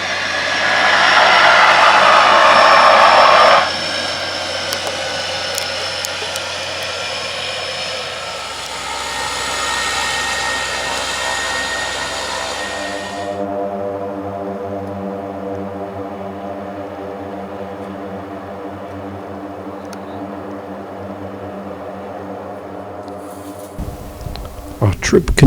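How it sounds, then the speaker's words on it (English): Float planes drone overhead on a coastal trip between Seattle and Vancouver, a loud broadband propeller roar in the opening seconds that then fades into a lower, steady engine hum with harmonic tones that persists throughout. "Our peace was occasionally shattered by the comings and goings of float planes."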